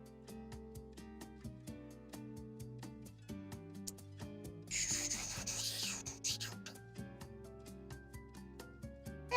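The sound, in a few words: shaving down a plastic model kit part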